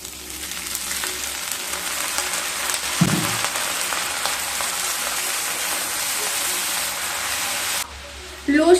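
Spices sizzle steadily in a pan on low heat with a splash of water and salt added, for a Bengali okra do pyaza, a constant close frying hiss with a brief stir or scrape near the middle and a clatter at the end.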